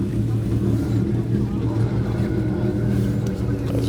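Motorcycle engines idle and rumble at an underground bike meet in Tokyo, a steady low throaty drone beneath nearby people talking.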